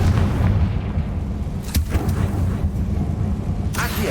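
Booming blasts from the Confringo explosion spell in Hogwarts Legacy, a rumbling low roar with two sharp bursts cutting through, loud and close.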